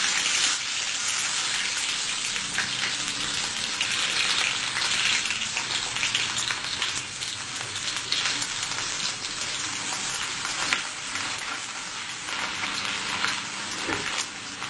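Chopped shallots fry in hot oil with mustard seeds and fenugreek for a Kerala fish curry, a loud, dense, steady sizzle crackling continuously throughout, with no talking.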